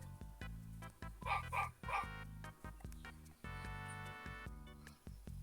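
Several dogs bark and yip in quick bursts in the Roblox game Dead Rails, over a steady droning background with electronic game-style tones, fairly close and moderately loud.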